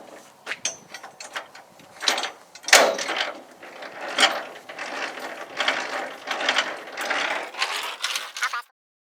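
Trailer landing gear being cranked in low gear, with a steady run of close, loud metallic ratcheting clicks and gear grinding in uneven bursts, heard alone until it stops near the end.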